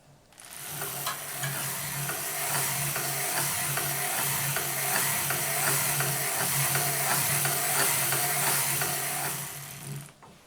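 A 1908 Edwardian circular sock knitting machine being hand-cranked to form a tubular knit, giving a steady, close, continuous mechanical clicking and ratcheting whir with fine rapid ticks, fading in and out at the ends.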